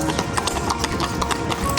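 Long-legged horses walk at the Seville April Fair, and their hooves strike in a quick, steady clip-clop on the pavement while people talk nearby.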